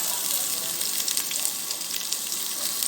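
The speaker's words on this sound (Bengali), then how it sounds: "তেলটা গরম হয়ে গেছে আমি এখন পেঁয়াজটা দিয়ে দিয়েছি" Onion frying in hot oil, a dense, bright continuous sizzle with crackling pops, close and fairly loud, heard without talk.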